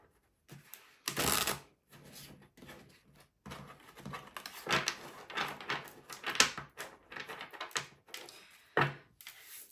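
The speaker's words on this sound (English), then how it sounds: "And just shuffle." Tarot cards being shuffled in an irregular series of soft riffling bursts and pats, close and fairly quiet, with short gaps between handfuls and no talking.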